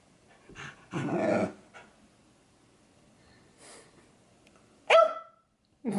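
A dog barks a few times close by: a bark and a growl early on, a softer huff in the middle, then a sharp loud bark near the end, with quiet gaps between them.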